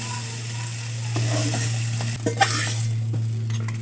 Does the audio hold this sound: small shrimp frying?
yes